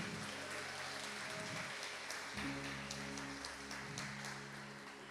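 Steady applause from a church congregation fills the whole stretch, with a low hum running underneath.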